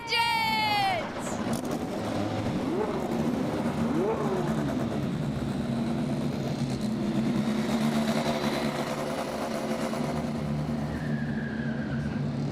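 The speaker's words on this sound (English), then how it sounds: "Start your engines!" IndyNXT race cars on the downtown Detroit street circuit start up together, a steady loud engine drone and revving running throughout, with a voice talking over it at the start.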